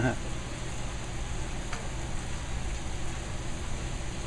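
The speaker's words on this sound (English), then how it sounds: "So as you can see, our meat's browning. Browning nicely." Meat browning in a hot pan for guisado, a steady close sizzle and hiss of frying that continues evenly throughout with no talking over it.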